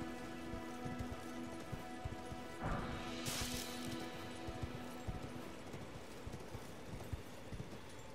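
Horse hooves clip-clop at a steady trot in Elden Ring, quiet under faint ambient game sound, with a sharp crash partway through.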